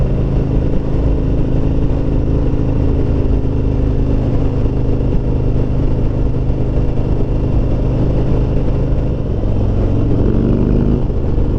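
A Harley-Davidson Road King Special motorcycle with an M8 engine idles loudly and steadily up close, with a brief rev near the end.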